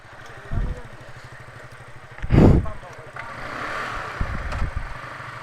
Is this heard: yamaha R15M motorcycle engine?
yes